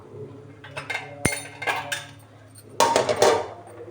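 A pot of boiled moong dal gets its metal lid, with a sharp clank followed by scattered clinks and scrapes of cookware, close and fairly loud, then a final rattling clatter.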